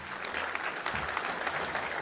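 An indoor audience applauds at a 2025 New Year's address by a French deputy in Moselle, a steady, fairly soft patter of many hands clapping throughout.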